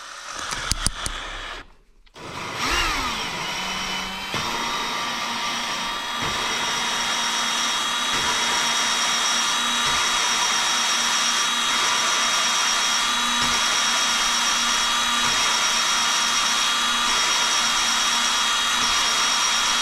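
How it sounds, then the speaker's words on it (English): A small electric drill spins a valve in a Ford 460 cylinder head for lapping with grinding compound, a steady close whirring drone that runs continuously after a brief start, with faint scraping and occasional slight pulses. "Chucking her up in my little drill here."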